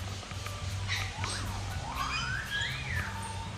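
Birds calling at a bird park in Foz do Iguaçu, with rising and falling whistled calls over a steady low hum of background noise.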